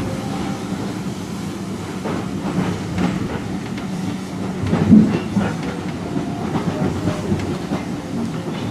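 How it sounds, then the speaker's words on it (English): A Severn Valley Railway heritage train rolls into Kidderminster station, a steady loud rumble of carriages with rhythmic clickety-clack over the rails and a soft hiss, heard from on board with no talking. "Now arriving into Kidderminster."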